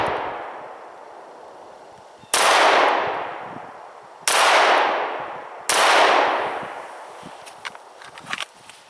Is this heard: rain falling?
no